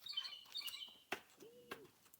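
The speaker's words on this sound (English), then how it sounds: "see what bird they gonna call over here" Bird calling from trees on a camping trip, faint short chirps and a few sharp clicks spread across a quiet outdoor background.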